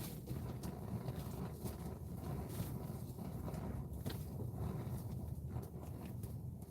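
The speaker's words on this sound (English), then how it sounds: "the wind definitely makes things more difficult on days like today" Steady wind buffeting the microphone outdoors while ice fishing, a continuous rough rumbling roar with gusty fluctuations throughout.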